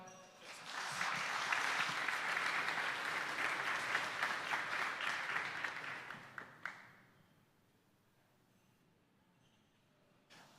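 A conference audience breaks into dense, sustained applause for several seconds, then it tapers off quickly, leaving a quiet hall with faint room noise.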